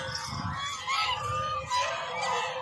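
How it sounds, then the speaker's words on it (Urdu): A flock of ducks quacks and honks all around at close range, overlapping harsh calls in irregular bursts over a busy outdoor background, with no talking. "میں ان بطخوں کے بالکل اندر ہوں، میں درمیان میں ہوں"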